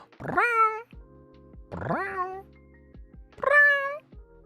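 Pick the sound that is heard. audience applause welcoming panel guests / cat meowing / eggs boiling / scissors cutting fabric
cat meowing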